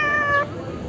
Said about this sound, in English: You only speak meow, I don't understand you.